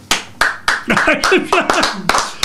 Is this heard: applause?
yes